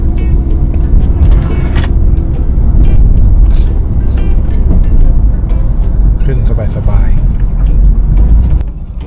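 A white Toyota Wish climbs a steep hill near Khun Dan Dam in automatic D gear, its engine a steady, loud, low droning strain heard from inside the car with little change throughout.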